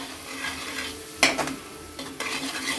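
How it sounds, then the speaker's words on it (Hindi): Masala spices with salt and red chilli powder roasting in a pan for paneer tikka gravy, a steady close sizzle with a spoon scraping and stirring in bursts, and no voices. "देखिए इसे भी हम अच्छे से भून लेंगे"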